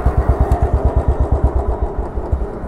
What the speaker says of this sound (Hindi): My motorcycle started stalling.